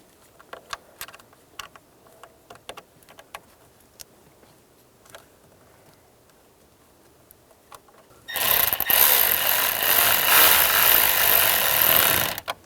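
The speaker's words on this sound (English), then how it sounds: "before we tighten those down, we'll get the two screws in up top" Screws go in while a hazard switch is fitted in a 1998-2010 Volkswagen Beetle, scattered light clicks and taps followed by a sudden loud, steady whirring of a power driver running close for several seconds.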